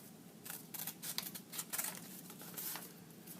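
Scissors cutting paper for a craft map, a quick series of faint, close snips and rustles in an irregular rhythm.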